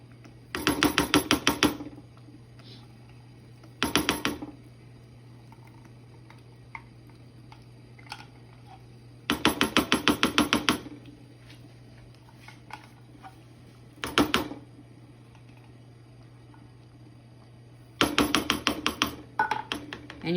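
A spoon scrapes tomato paste from the bottom of a metal can in about five short, rapid bursts of gritty clicking, separated by pauses over a steady low hum.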